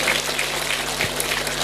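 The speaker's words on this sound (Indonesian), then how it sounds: "Tepuk tangan dulu." An audience applauds at a village stage event, a steady wash of clapping that lasts throughout with a low electrical hum underneath and no voices.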